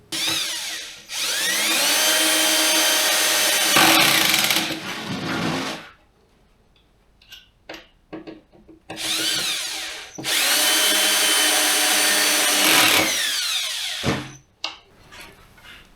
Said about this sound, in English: For screws, I'm using 1 3/4 inch self-tapping decking screws.